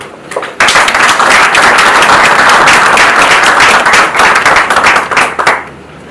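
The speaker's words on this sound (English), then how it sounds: "Of course, another round of applause." An audience at the Kenya Space Agency strategic plan launch breaks into loud, sustained clapping that begins abruptly and continues evenly before tapering off at the end.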